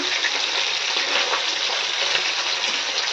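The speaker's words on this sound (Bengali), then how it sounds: "তেলের মধ্যে নুন হলুদ মাখিয়ে মাছটা ভাজা করছি।" Fish coated in salt and turmeric frying in hot oil, a continuous dense crackling sizzle held close and steady from start to finish, with no voices.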